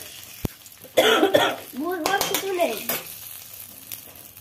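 Sugar frying in hot oil in a pan gives a loud burst of sizzling that fades into a softer crackle, with a cough and voices heard over it.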